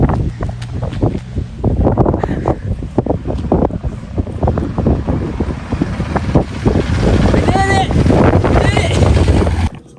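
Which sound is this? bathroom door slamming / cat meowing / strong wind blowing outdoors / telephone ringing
strong wind blowing outdoors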